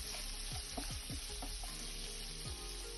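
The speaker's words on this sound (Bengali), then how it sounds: "পেঁয়াজের মধ্যে সামান্য নুন দিয়ে দিচ্ছি, দিয়ে এটাকে একটু নাড়িয়ে নেব।" Onions with a pinch of salt crackle in a frying pan, a continuous close sizzle punctuated by several scraping strokes of a spoon stirring them around.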